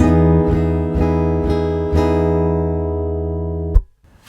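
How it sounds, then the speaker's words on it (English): A clean, dry, unprocessed DI acoustic guitar strummed in a steady rhythm about twice a second, chords ringing out, ending with a sharp muted hit. "So this is what the guitar sounds like unprocessed. That's your unprocessed DI sound."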